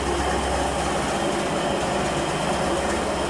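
A loud, steady mechanical drone of a flour mill grinding grain, a constant heavy engine hum with no pauses and no talking.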